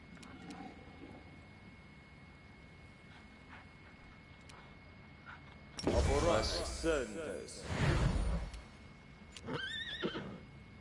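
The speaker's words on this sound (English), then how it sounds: "See if I can put this horse to sleep." A plague horse in Pathfinder: Wrath of the Righteous neighs in loud, wavering whinnies, two long calls followed by a shorter one, set against a quiet game backdrop with a voice talking.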